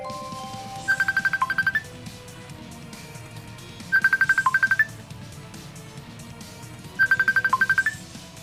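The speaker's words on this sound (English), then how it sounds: "My phone is making some weird noise." A phone ringtone in a Tales of Graces f Remastered game scene: three identical bursts of rapid electronic chirping beeps, spaced about three seconds apart, over a quiet background hum.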